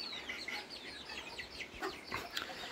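Young chickens cluck and peep inside an aviary, a scatter of short, fairly close calls over soft background noise.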